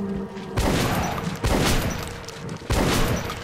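Three loud, sharp gunshots in the video game Metro Last Light, spaced about a second apart, each followed by a brief echoing tail.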